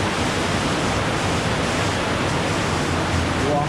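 Creek water on Vancouver Island rushes loudly and continuously close by, a dense broadband roar with no voices over it.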